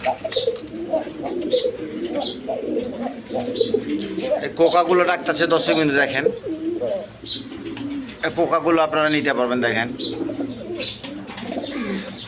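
Pigeons, including a pair of racing birds, coo and call close by in a pigeon market or loft, a dense stretch of rolling calls beneath someone speaking loudly throughout.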